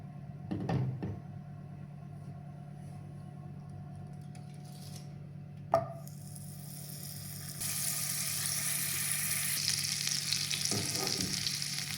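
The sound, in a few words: granulated sugar melting into caramel in a pan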